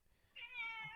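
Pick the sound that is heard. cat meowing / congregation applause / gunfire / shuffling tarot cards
cat meowing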